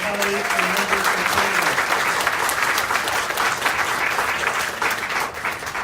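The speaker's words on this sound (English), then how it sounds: "round of applause for our colleagues and members of" A live crowd at a SilverSneakers 25th anniversary celebration applauds in a dense, sustained wash of clapping that holds steady for several seconds, with a few cheers and a voice briefly heard at the start.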